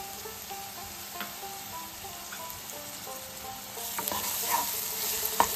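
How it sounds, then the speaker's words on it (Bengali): Ginger garlic paste fries over a low flame with chopped onions for chicken do-pyaza, giving a steady close sizzle with a stirring utensil scraping and tapping the pan, and no voices. "প্রায় 2 মিনিট কম আঁচে ভেজে নিয়ে তারপর এর মধ্যে পড়বে আদা রসুনের পেস্ট।"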